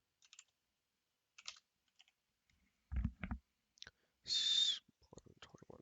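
Typing on a computer keyboard, with sparse, quiet key clicks and a few short bursts of taps close by, separated by near silence, plus a brief high whistle-like tone.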